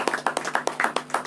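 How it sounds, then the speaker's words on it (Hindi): A church congregation claps together in a steady, even rhythm, each sharp clap distinct and fairly close, with nothing else heard over it. "आइए परमेश्वर को जोरदार ताली के द्वारा हम धन्यवाद दें।"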